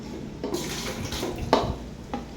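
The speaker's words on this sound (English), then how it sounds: "You can use any unused tub to scoop the water." Water scooped from a toilet bowl with a small tub, giving a few soft, close splashes and sloshes over a short stretch.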